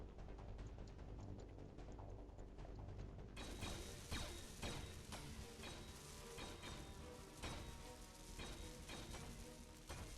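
Steel plate being welded in Space Engineers gives a continuous crackling, clattering mechanical hiss that turns fuller and louder after the first few seconds and then holds steady with rapid irregular ticks.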